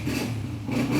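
A used Honda 125 motorcycle engine, 2015 model, runs steadily up close, a loud continuous mid-pitched drone with a slight rise in its final moments, heard alone.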